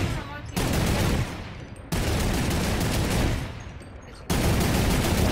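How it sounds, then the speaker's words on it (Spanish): Loud, dense bursts of rapid gunfire in Fortnite Battle Royale come in long sustained volleys, broken by short pauses, close and intense, with no talking. "Hay disparos por detrás."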